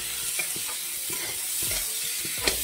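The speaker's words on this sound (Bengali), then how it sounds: "সিদ্ধ করে রাখা এই যে ছোলাগুলো দিয়ে দিলাম" Boiled chickpeas being stirred in a frying pan for chana masala, with a steady sizzle under repeated scraping knocks of the spoon against the pan, close and fairly loud, no voices.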